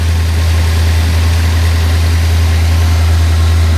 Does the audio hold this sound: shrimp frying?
no